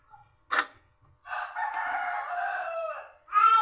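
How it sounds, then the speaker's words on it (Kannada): A rooster crows nearby a home kitchen, starting with a short sharp call and then one long drawn-out crow. Another loud call follows at the end, with quiet gaps between them and no talking. "ಇಲ್ಲಿ ನಮ್ಮ ಬ್ಯಾಕ್ಗ್ರೌಂಡಲ್ಲಿ ತುಂಬಾ ಕೋಳಿ ಸೌಂಡ್ ಬರ್ತಾಯಿದೆ"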